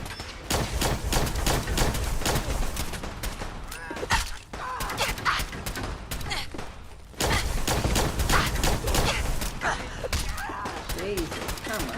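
Rapid, sustained bursts of Gatling laser fire in Fallout 4, a dense stream of crackling shots running almost continuously with a brief lull midway, loud and close.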